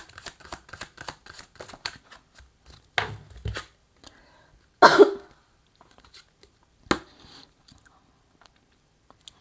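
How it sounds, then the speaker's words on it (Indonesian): A few separate coughs, one loud and close in the middle, with softer clicks and mouth noises between them and quiet gaps. "saya tak batuk dulu."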